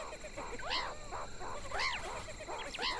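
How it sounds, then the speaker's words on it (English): High, wavering cries from a lost meerkat pup, three or four plaintive calls repeating at short intervals, moderately near over a faint outdoor hiss. "As he moves to meet the cries, he discovers Axel, the lost Zapper pup"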